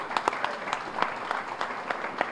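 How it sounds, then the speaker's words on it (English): An audience at a youth and civic awards ceremony applauds the winners, a scattered patter of claps at moderate distance, fairly soft and steady, with no talk over it. "Big round of applause for all our winners."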